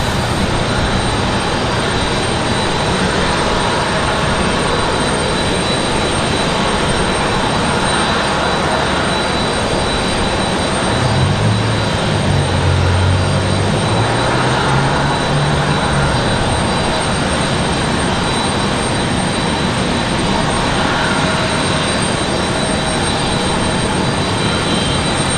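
A Boeing 737 jet airliner passes at Raleigh-Durham International Airport on a crosswind evening, a loud continuous engine roar with a low rumbling swell near the middle, no speech.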